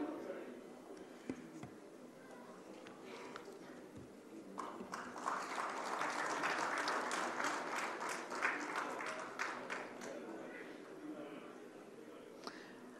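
Audience applause at a political event where the PPP Chairman hands out home solar systems, a broad clapping crowd swelling midway and then thinning, with a voice over a loudspeaker at times.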